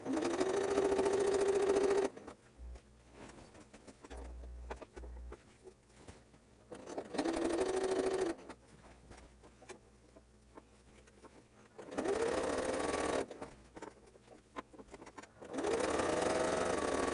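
A sewing machine runs in steady bursts of rapid stitching, stopping and starting several times as it sews a seam up to a marked dot, with quiet pauses between runs.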